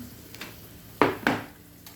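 Mustard and fenugreek seeds frying in hot oil in a pan for a Mangalorean mackerel pulimunchi, with two sharp sizzling bursts, each fading over a moment, above a soft continuous hiss.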